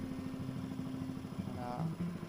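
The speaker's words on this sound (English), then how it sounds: "making lots of bloody noise with his crazy little engine" A small motorcycle engine runs in the Peruvian Amazon, a low, steady chugging idle with a regular pulse, heard close and moderately loud, with a brief voice near the end.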